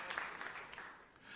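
Congregation applauding in a church service, a brief burst of broad, crackling clapping that swells and fades slightly, filling the room at moderate loudness.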